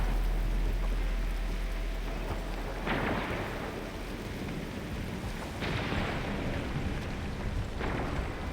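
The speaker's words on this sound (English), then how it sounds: "It's raining harder. I can't hear anything except for the rain." Heavy, steady downpour in Arknights Endfield, a dense continuous hiss of rain with a few louder surges and rumbling swells, no voices.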